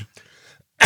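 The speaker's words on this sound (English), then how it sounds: "this is Tourette's, not coronavirus. I keep coughing" A sharp, abrupt cough from a Tourette's tic bursts out at the end, loud and close, after a few faint breathy throat sounds.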